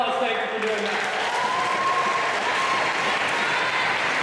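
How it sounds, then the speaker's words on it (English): Steady audience applause at a public speaking final, a dense, continuous wash of clapping from a crowd, loud and unbroken throughout, with a few voices faintly mixed in at the start. "Let's give one last round of applause."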